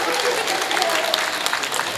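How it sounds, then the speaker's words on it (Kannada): A crowd at a Lions Clubs regional gathering claps in a dense, steady burst of applause that fills the whole short stretch, with faint murmuring mixed in. "ತಾವುಗಳು ಚಪ್ಪಾಳೆ ತಟ್ಟಬೇಕು ಸೂಪ್ ಕೆಳಗಿಟ್ಟು."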